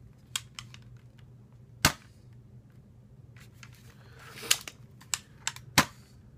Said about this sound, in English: This one primes like the fire strike back here